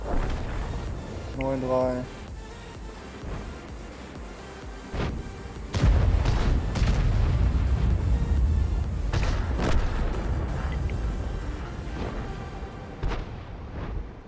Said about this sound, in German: Die verfickte Arti macht sie fertig.